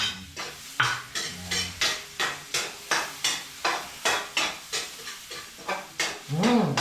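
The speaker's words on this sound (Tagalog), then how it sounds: "Ayan, ginigisa na natin." A spoon stirs onion, garlic and ginger sautéing in a hot pan, giving regular scraping clinks about twice a second over a soft sizzle, close and fairly quiet, with no speech.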